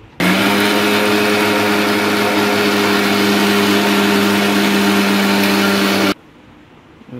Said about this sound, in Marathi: जरा ग्राइंड करून घेऊया तिला.